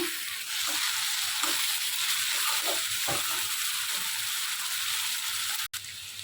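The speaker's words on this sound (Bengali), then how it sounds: "এখন আদা রসুনটাকে একটু কষিয়ে নিচ্ছি" Ginger and garlic paste, with a little salt, frying in hot oil in a pan, a steady loud broadband sizzle right up close, with faint scraping stirs now and then and a brief dropout near the end.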